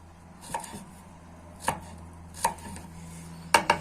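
A knife chops ingredients for a bird tonic on a board, making about five sharp, separate knocks. The last two come in a quick pair, and the room is otherwise quiet with no speech.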